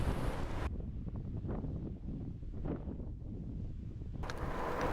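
Headwind buffeting the microphone while riding an electric-assisted bicycle up a hill, a low rumbling roar that stays steady and fairly loud throughout, with no voices.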